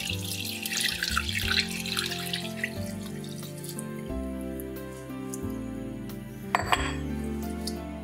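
Hot milk poured into flour in a pan for a lasagna béchamel sauce, a steady liquid pour close by with metallic clinks of the pan and utensil, ending in a brief splash, heard alone.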